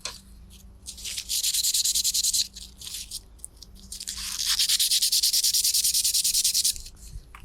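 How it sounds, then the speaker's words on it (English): Hand sanding of a small DIY assist hook spacer and puller tool, two long bursts of fast, raspy back-and-forth scrubbing with a brief pause between, close and fairly loud with no talk. "Now we just need to sand this a little bit."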